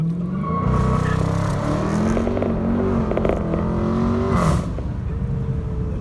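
A Dodge Charger Scat Pack launches in track mode with a loud engine roar that climbs through revs, a brief tire chirp mixed in, then settles lower as the car pulls away.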